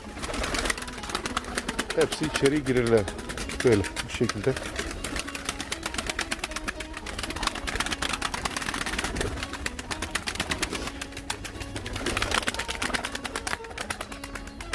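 Pigeons coo in a loft after feed is scattered, soft low burbling calls rising now and then through a busy, rustling background while someone talks over them nearby.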